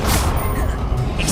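A Confringo blasting spell goes off in the video game Hogwarts Legacy, a loud crashing burst with a brief roar that quickly thins out over a little more than a second.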